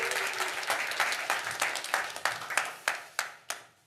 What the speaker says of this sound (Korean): 이분들을 위해서 감사의 박수 한번 해주세요.